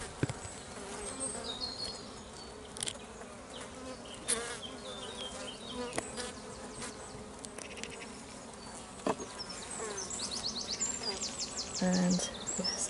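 Honeybees buzzing constantly inside an opened hive during a split inspection while searching frames for a virgin queen, a dense near hum with occasional louder passes of single bees close by.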